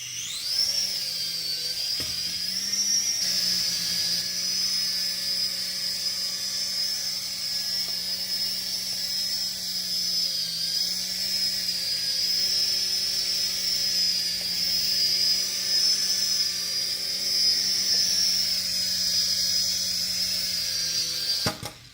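A DEERC remote control helicopter for kids and adults takes off and hovers, its small rotor and motor keeping up a steady, high-pitched whine for the whole stretch, close and continuous with no talking.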